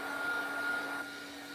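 An electric dryer blowing over a journal page sends out a steady, close whir with a faint whine, then drops to a quieter hum near the end.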